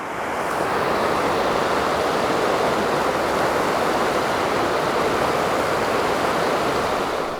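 Stream water rushing over rocks outdoors, a constant loud broadband wash with no pauses and no voices.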